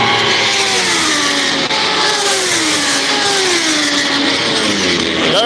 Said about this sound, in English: Listen to this when they come down the straightaway. They're coming down the tri-oval right now.